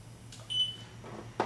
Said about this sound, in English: as soon as it registers, it beeps